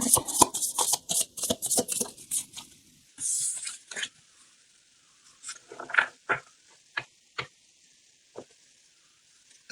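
Tarot cards are shuffled in quick, dense riffling bursts, followed by sparse soft taps and slaps as single cards are drawn and laid down, heard close and with no talking.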